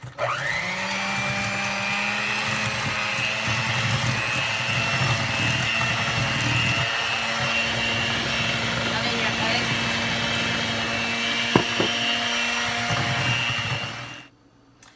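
Electric mixer creaming muffin batter with milk in a kitchen, a steady, continuous whir running for many seconds before cutting off, with a couple of brief clinks near the end.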